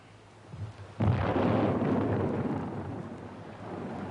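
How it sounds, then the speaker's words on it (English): A sudden deep rumble of thunder breaks in after a quiet start, rolling on loudly and slowly fading over a few seconds. "Thunder. Looks like a storm brewing."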